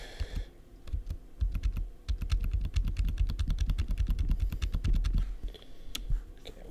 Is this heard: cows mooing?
no